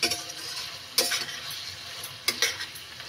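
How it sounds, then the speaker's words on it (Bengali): Spice paste for a Bengali prawn malai curry frying in a pan, a quiet sizzle broken by a few sharp spatula strikes and scraping stirs, close up with no talking. "এখন আমি মশলাটাকে ভালো করে ভেজে নিব"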